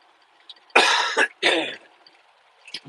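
Two close, loud coughing fits from a man broadcasting live, each a burst of harsh throat-clearing coughs, followed by quieter faint coughs near the end; no talking over them.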